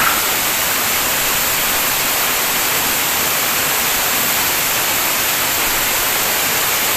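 Loud, steady rushing of falling water, a dense unbroken roar that fills the whole stretch without any voices.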